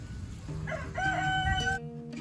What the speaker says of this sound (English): These are 3 of my youngest pullets.